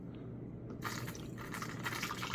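Thin leveling thinner liquid is poured out, starting as faint drips before a steady close splashing pour takes over and runs on without voices.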